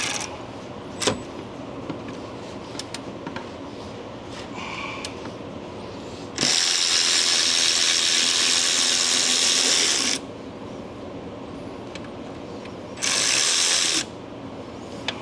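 A socket ratchet loosens bolts on the engine fan of a Freightliner Cascadia truck, heard as scattered close clicks plus two sustained bursts of buzzing ratcheting, the first about four seconds long and the second shorter.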